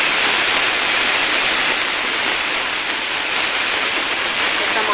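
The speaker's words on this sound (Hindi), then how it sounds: "तो अब हम इसमें टमाटर डालेंगे" Chopped tomatoes, two medium ones finely cut, go into a hot tempering for vrat-style potato curry, giving a loud, steady, continuous sizzle and hiss that holds without break from start to finish.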